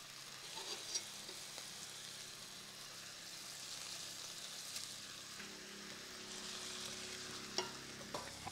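Salmon fillets coated in tikka masala spices fry in a hot pan, giving a steady close sizzle with occasional pops and stirring clicks and no talk.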